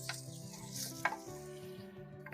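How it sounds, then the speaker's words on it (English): Bacon frying in about two tablespoons of tallow in a cast-iron potjie pot, a soft steady sizzle with faint stirring scrapes and one brief clink partway through, close and quiet with no talk. "fry it up nicely, get some of that bacon fat out there"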